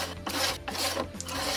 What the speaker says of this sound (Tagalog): pwede ka guys gumamit ng sliding cutter na kamukha nitong ginagawa ko ngayon